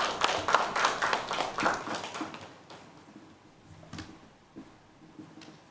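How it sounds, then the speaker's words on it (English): A small room of conference attendees claps for a speaker at a business taxation panel, a burst of scattered hand claps that starts fairly loud and tapers off into a few isolated claps. "with a round of applause"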